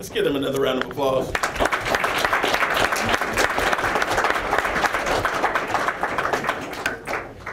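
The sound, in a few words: audience applause at city commission meeting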